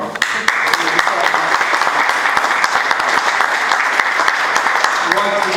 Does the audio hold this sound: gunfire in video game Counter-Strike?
no